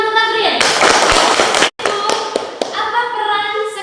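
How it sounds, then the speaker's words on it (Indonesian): A classroom of children claps for a student, a dense burst of applause that breaks off briefly and then picks up again, with children's voices mixed in. "Ya, tepuk tangan untuk Afril."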